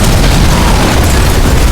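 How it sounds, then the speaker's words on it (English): A grenade blast tears through a zombie crowd at a nursing home entrance, a loud, dense roaring boom that fills the whole moment and then cuts off abruptly. "After a loud and powerful explosion, most of the zombies near the entrance were cleared out."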